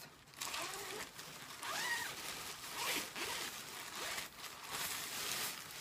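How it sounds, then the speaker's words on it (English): Zipper on a heavy plastic bag from a dollar store being pulled open in several short, rasping strokes, close and fairly quiet, with brief pauses between pulls. "Let's see if the zipper works."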